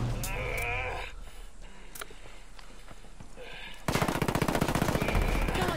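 Rapid automatic gunfire erupts in Ghost Recon Wildlands, loud dense bursts taking over the last two seconds after quieter in-game ambience with brief bleat-like tones and scattered clicks.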